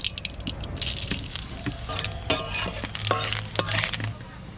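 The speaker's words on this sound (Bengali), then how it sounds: "সরষের তেল, তেজপাতা, জিরে," Bay leaf and cumin seeds fry in mustard oil in a village kitchen, with a busy crackling sizzle and repeated scraping stirs of a spoon against the pan, close and steady throughout.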